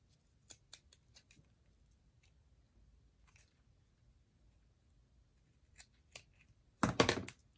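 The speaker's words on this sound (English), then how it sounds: "my scissors to freehand" Scissors snip freehand through a double stack of small felt pieces to form thorn shapes, with soft, sparse close-up cuts followed by a louder cluster of snips at the end.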